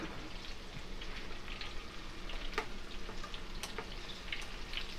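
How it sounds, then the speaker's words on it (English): Shrimp frying in hot oil for a po'boy, a steady dense crackle and sizzle with scattered sharper pops, close and continuous throughout with no talking. "So these are frying. We're going to let these fry and get golden brown"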